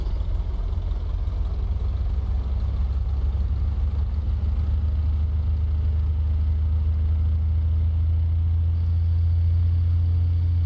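Simulated light aircraft piston engine in X-Plane 11 held at about 1800 RPM for a magneto check, a steady loud low drone with a constant hum and no talk.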